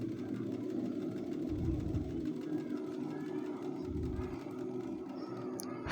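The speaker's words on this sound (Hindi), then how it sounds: "अब सीधी सिलाई लगा दीजिए।" A sewing machine runs a straight stitch on suit fabric, a continuous low mechanical hum and whir at close range with a few brief louder pulses.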